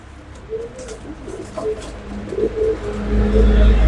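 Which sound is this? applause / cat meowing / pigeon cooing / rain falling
pigeon cooing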